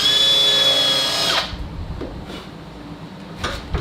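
Power drill chamfering a metal blank for a marking knife, loud and steady whine running alone for about a second and a half, then cutting off into quiet bench clatter with a few light knocks.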